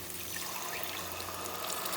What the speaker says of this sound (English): I just added chicken stock water